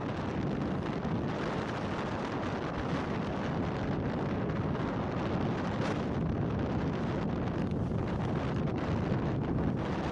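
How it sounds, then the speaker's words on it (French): Strong wind buffets a sailboat on the open Atlantic approaching land near Jamaica, a steady loud roar of gusts battering the microphone for the whole stretch, no voices. "il y avait quand même du gros vent direct avant d'arriver, comme ici"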